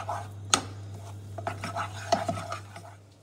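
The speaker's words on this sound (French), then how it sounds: "Et vous refaites cuire 3 minutes pour assécher la pâte en la mélangeant." A spoon works choux pastry dough around a hot pan to dry it, with scraping strokes and sharp metallic clinks against the pan over a low steady hum, close up and without speech.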